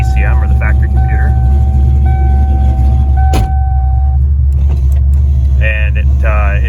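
A 1989 Mustang LX with a 347 stroker V8 idles in a steady, deep, loud rumble close by, with a voice briefly audible near the end.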